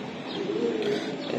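A pigeon coos close by, a soft throaty rolling call sitting over faint background noise, with no talk.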